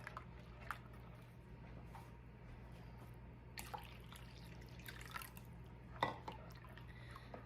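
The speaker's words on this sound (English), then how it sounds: "Okay, I'm gonna pour in 1 cup of boiling water. Give this a stir." A spoon stirs sugar into a cup of boiling water for Jell-O, giving faint scattered clinks and soft liquid drips against a quiet background with no talking.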